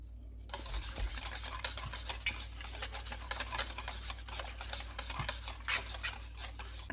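A spoon stirring a condensed milk mixture for mango ice candy in a bowl, continuous soft scraping and swishing strokes close up, steady throughout, no talking.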